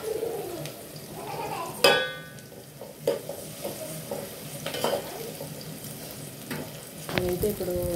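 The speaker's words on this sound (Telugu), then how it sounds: "బాగా కొంచెం లైట్ బ్రౌన్ వచ్చేంత వరకు బాగా వేయించుకుందాం ఫ్రెండ్స్." Chicken curry ingredients fry in a pan until light brown, giving a faint, steady sizzle broken by a few sharp stirring clinks, while pigeons coo nearby.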